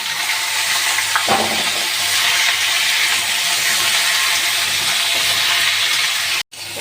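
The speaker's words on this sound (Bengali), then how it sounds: "পটলটা আর আলুটা একসঙ্গে ভেজে নেব।" Pointed gourd and potato pieces fry together in hot oil, giving a loud, steady hiss of sizzling with a faint clink early on and a sudden brief cut near the end.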